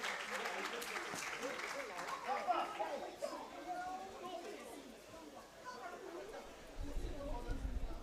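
Audience applause at a law symposium in Nigeria, a steady wash of clapping from a seated crowd with chatter and a voice talking over it throughout.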